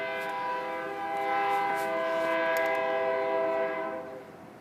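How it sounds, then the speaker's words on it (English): A train horn sounds a long, sustained multi-tone blast as the train passes, loud and steady, then fading slightly at the end, with no talk over it. "Is he done? The train?"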